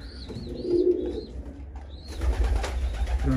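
Soft coos and warbling calls from Izmir posta pigeons sound close by, with a brief higher chirp; the background noise swells partway through.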